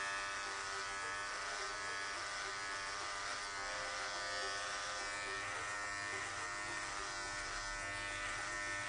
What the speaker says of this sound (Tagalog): So, aahitin ko magmula dito sa pinakailalim. Paakyat.